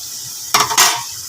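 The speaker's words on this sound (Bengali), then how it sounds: "পাঁচ রকম ভাজাটা করবো" Vegetables frying in a pan for a home birthday meal, a sudden burst of loud sizzling with a brief scrape of utensil on the pan, short and close.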